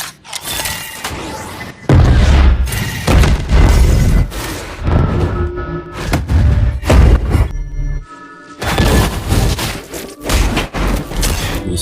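Huge explosion from the Arcane animated series, set off by a toy monkey packed with arcane stone: repeated loud booms and heavy thuds in bursts, with rumbling debris between blasts, close and overwhelming, no talk.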